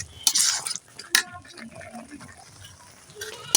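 Mango pickle with garam masala powder is stirred in a pot, with a few scraping and clinking strokes of a spoon against metal, then quieter bubbling and soft movement.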